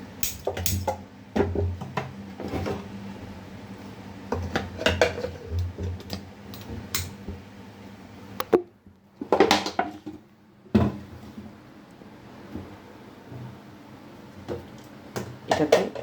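Pots and a pressure cooker are handled in a home kitchen while dal is cooked, giving scattered metallic knocks, clanks and light clinks at uneven intervals, with a short lull midway and some faint voices in the background.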